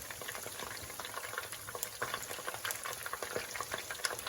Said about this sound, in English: You can still hear that frying